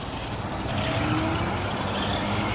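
An electric Traxxas Slash 4x4 RC car pulls away with a steady whirring motor hum and gravel noise, moderately loud and unbroken.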